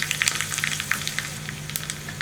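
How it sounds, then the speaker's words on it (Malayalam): Mustard seeds crackle and pop in hot coconut oil in a pan, a close, busy sizzle with rapid sharp spluttering bursts. "വെളിച്ചെണ്ണ ചൂടായി വന്നിട്ടുണ്ട്. നമുക്കിതിലേക്ക് കടുക് ചേർത്ത് കൊടുക്കാം."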